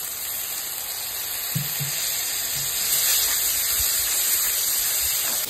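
Water goes into a pan of frying spice paste made with Kashmiri chilli, red chilli powder and green chilli paste, bringing a loud, steady sizzle and hiss with a few soft stirring knocks.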